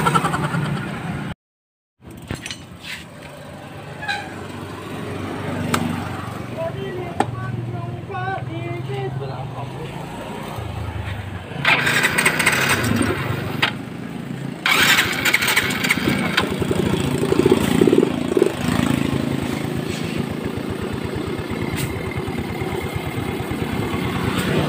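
A Yamaha Mio i 125 scooter engine, just after throttle body cleaning, cranks and starts after a brief silence, then idles and revs unevenly at close range while someone talks over it.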